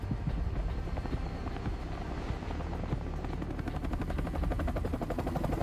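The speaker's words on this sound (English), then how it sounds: "In the sky, helicopters roar, tearing through the thick fog" A continuous, loud rotor roar with rapid thudding chop fills the whole stretch, like a helicopter passing close overhead through fog above the Kakadu swamp in Australia.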